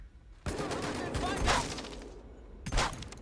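Shotgun blasts in the World War II shooter Medal of Honor: Above and Beyond, a loud burst of several rapid shots followed by a pause and a second close, sharp blast.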